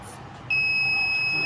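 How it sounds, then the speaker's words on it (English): A washing machine's lid-open warning buzzer sounds as a steady, high electronic tone that starts abruptly partway through and holds unbroken over quiet room noise. "you will tell us to close the lid and the buzzer will sound."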